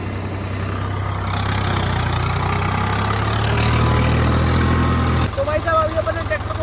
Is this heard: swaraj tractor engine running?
yes